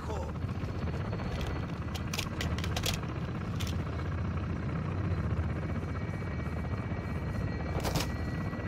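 A helicopter in the Call of Duty: Modern Warfare 2 campaign drones with a steady, loud rotor roar that fills the whole stretch, with brief sharp bursts over it that may be gunfire.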